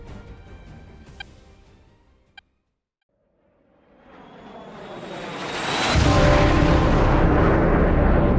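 A jet aircraft touches down in a flight video game, its engine roar fading to near silence after faint clicks, then swelling back into a loud, steady rushing whine that fills the last seconds.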